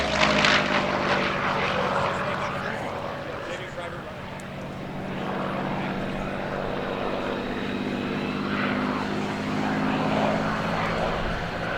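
P-51 Mustang propeller fighter climbing at an airshow, a droning engine roar holding steady with slight swells over about twelve seconds, while an announcer talks over a loudspeaker.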